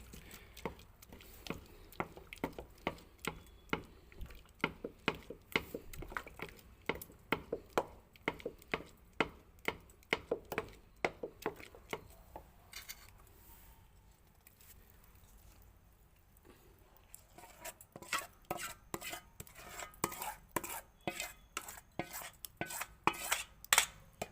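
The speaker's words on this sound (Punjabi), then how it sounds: "ਆਪਾਂ ਥੋੜਾ ਥੋੜਾ ਆਲਣ ਪਾ ਕੇ ਨਾਲ ਦੇ ਨਾਲ ਘੋਟਾਂਗੇ" Mustard greens saag being mashed and churned in a pot while maize flour is added bit by bit: close, rhythmic knocking and scraping strokes in steady bursts, a brief lull midway, then faster strokes, with no talk.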